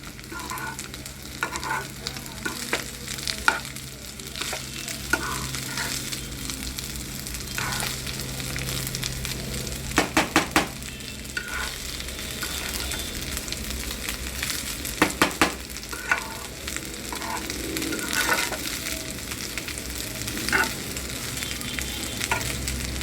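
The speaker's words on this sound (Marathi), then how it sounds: "मी सगळा भात याच्यामध्ये आता मिक्स करणार आहे" Rice being stirred into sizzling vegetables for veg pulao, a steady fry with repeated scraping clatters of the spoon against the pan, close and continuous.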